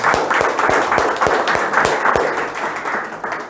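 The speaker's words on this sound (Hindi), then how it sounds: "तो पहले तो सृष्टि के लिए जोरदार तालियां बजा दो कि वो यहां पे आई" A seminar audience claps loudly for a young performer, a dense burst of many hands slapping in quick irregular rhythm, sustained and close, fading slightly near the end.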